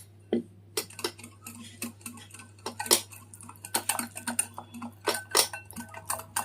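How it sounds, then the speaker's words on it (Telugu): Semolina-sugar powder being mixed into eggless gulab jamun cake batter in a bowl, heard as quick irregular clinks and scrapes of a utensil against the bowl, close and without talk. "ఇప్పుడు ఈ పౌడర్ మనం కొంచెం కొంచెంగా యాడ్ చేసుకుని మిక్స్ చేసుకుంటూ ఉండాలి"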